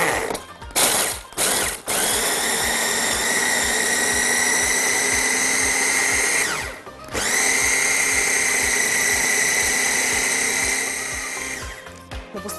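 Food processor grinding biscuits with butter, its motor whirring loudly and steadily in two long runs after a few short pulses, close by with no speech.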